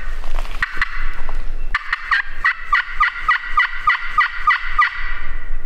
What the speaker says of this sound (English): that's just to be able to catch a gobble in the distance